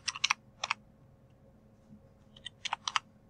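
Keys on a computer keyboard tapped in two short bursts of quick clicks, with a pause between them, close and fairly crisp in a quiet room.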